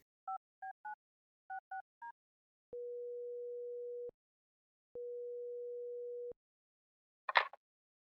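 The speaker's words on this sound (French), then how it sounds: "Magno appela tout de suite Lou, la reine-mère" A telephone call being placed: a quick run of keypad dialing beeps, then two long steady ringing tones separated by a pause, ending with a brief click as the line picks up.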